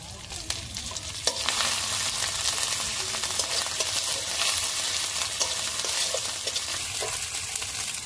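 Ground coriander, fennel and cumin paste hitting a pan of frying bhetki fish, giving a steady loud sizzle with stirring scrapes and occasional clicks throughout, no voices.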